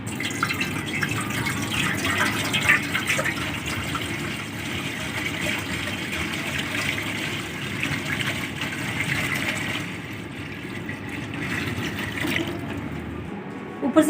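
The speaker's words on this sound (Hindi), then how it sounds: "पतीले में पानी डालेंगे 5 लीटर।" Five litres of water pour into a cooking pot on a stove for sarson ka saag, a steady rushing, splashing stream that continues for a long stretch, briefly thins near the end, then resumes.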